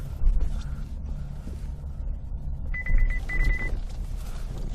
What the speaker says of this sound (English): Now let's actually drive the vehicle.